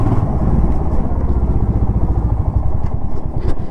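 A motorcycle engine runs close by with a steady, rumbling putter at low-to-mid pitch. It ends a long ride into Kolkata and plays alone, with no talking.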